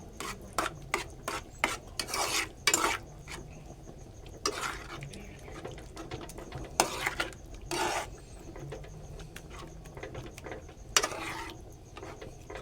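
A spoon rasps and scrapes through thick carrot halwa in a pan, in repeated short strokes that stand out clearly against a quiet background, with no voices.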